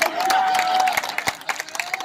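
An audience at a Hindi comic poetry recital breaks into applause and cheering, brief scattered clapping with crowd murmur, moderately close and fading toward the end.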